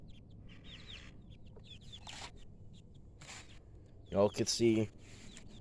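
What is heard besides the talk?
young chickens clucking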